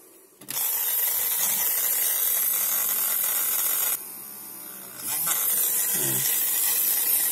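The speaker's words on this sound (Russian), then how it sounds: "Сверлю я обычно таким вот дремелем." A high-pitched Dremel rotary tool drilling holes in a circuit board whines loudly and steadily, briefly dropping in pitch and volume before spinning back up, with a short clunk near the end.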